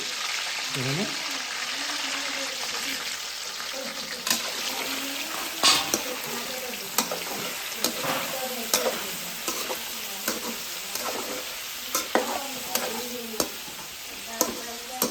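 Fish frying in hot oil with its skin popping, a continuous close sizzle broken by repeated sharp pops and crackles scattered through, with faint talk in the background.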